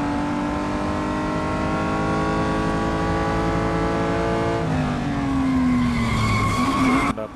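Race car in a pure stock challenge drifting through a corner with sustained loud tire skidding and squeal over a steady engine drone, and the pitch shifts partway through as the car slides and changes gear.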